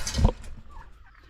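A farm turkey lets out a single loud, brief gobbling squawk that quickly fades into quiet.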